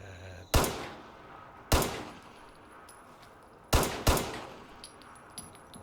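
Gunfire from a 10mm weapon in the video game Fallout 76: four sharp, loud shots, two spaced apart and then a quick pair, each with a short reverberant tail, alone with no talk.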